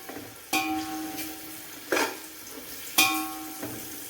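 Food frying in a pan for chicken biryani, steady sizzling broken by three or four stirring clatters, close and alone.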